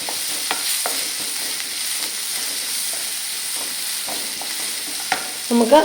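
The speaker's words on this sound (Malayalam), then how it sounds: "നമ്മുടെ ഈ സവോളയൊന്ന് നമുക്കൊന്ന് വഴറ്റിയെടുക്കാം" Sliced onion sautéing in a pan for semiya upma, a constant hissing sizzle broken by light stirring scrapes, with a brief clatter of utensils at the very end.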